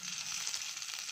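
Fenugreek seeds, cumin, chillies and curry leaves fry in hot oil, giving a steady, close, even sizzle that fills the whole moment with no voices.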